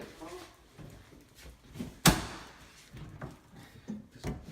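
A rebuilt drawer is fitted into a kitchen cabinet, with low rubbing and shuffling, one sharp wooden knock near the middle and soft bumps after, close by, while people talk quietly around it.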